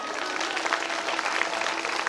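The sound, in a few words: applause welcoming a guest at a religious gathering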